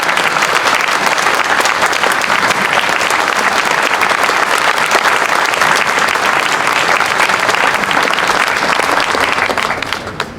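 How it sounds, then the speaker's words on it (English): Audience applause for military veterans at a Flag Day celebration in Batavia, a dense, loud, sustained clapping from a large crowd that carries on for about ten seconds before starting to fade. "And can we get a round of applause for those who have served our nation?"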